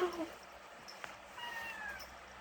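A house cat gives faint, drawn-out meows close by in a quiet room, a few soft rising cries.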